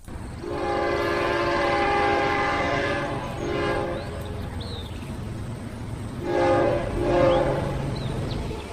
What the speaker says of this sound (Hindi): राहुल और अक्षय मुंबई के लिए एक ट्रेन पकड़ लेते हैं।